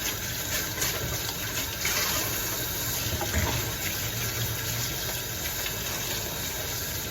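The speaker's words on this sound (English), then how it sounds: "well, I'll wash my hands." Running tap water pours steadily while hands are washed under it, a continuous close rushing wash with a low background hum and no talking.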